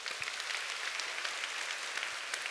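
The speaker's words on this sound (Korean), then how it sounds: "우리 박수 한번 쳐줄까요?" An audience at a corporate business lecture breaks into applause: a dense, steady patter of many hands clapping at moderate loudness, with no talking over it.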